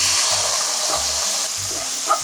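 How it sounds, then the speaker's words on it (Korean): Dried barley shrimp being stir-fried in a pan, a loud, close sizzle with soft scraping stirs and occasional low knocks over about two seconds. "보리새우 넣고 살짝 볶아주세요"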